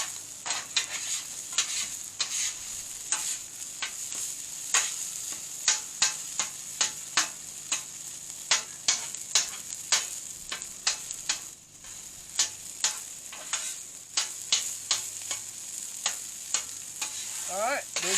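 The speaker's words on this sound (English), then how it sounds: "Let's get that into our rice. Start incorporating that. I'm actually going to use my scraper with this." Shrimp fried rice scraped and stirred with a metal scraper across a flat griddle, a steady run of sharp scraping ticks over a soft continuous sizzle, close and without talk.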